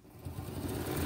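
A sewing machine runs at a steady pace, stitching fabric with a fast, even mechanical whir that builds over a brief moment, close and moderately loud.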